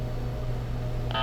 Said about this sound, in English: And we got dial tone.